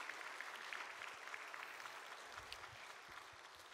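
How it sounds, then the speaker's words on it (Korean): A church congregation gives a faint, dense patter of clapping for the choir after a worship service, steady and distant throughout. "대장 최일순 장로님 이하 우리 호산나 찬양 대원 모든 분들께 또 감사와 격려 박수하시겠습니다"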